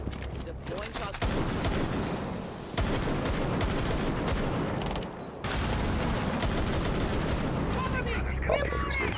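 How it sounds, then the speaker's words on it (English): Gunfire in a video game, with rapid bursts of shotgun blasts and chattering shots forming a dense, loud barrage that breaks off briefly twice, while voices speak over the action. "Deploying shotgun."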